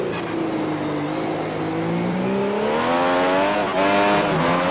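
Formula 1 car in the iRacing sim braking hard into the Montreal hairpin, its engine note dropping through downshifts with steady mechanical whine, loud and continuous, ending in a short blip.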